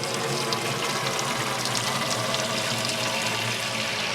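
Water pours steadily from a motorhome tap during fresh-water tank disinfection, a loud, continuous splashing rush close by that holds without a break.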